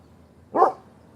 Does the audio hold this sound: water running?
no